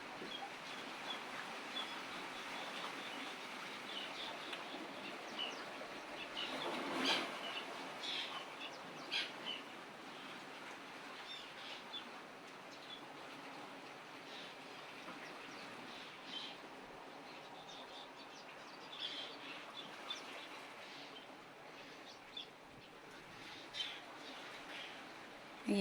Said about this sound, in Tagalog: Nakikita nyo yung lumilipad ang mga ibon.